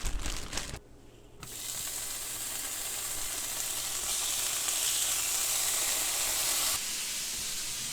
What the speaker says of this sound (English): So that bacon is sizzling nicely.